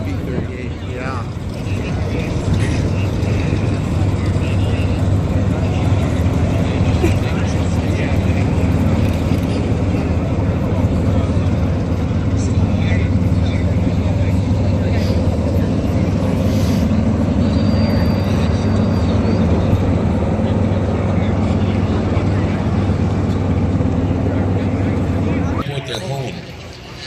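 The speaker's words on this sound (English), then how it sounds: "And taxiing out behind the P-51 is the F-4U-1 Corsair of the museums here." F4U-1 Corsair warplane taxiing at the Chino air show, a steady low piston-engine drone rumbling close and constant under ongoing talk and crowd babble.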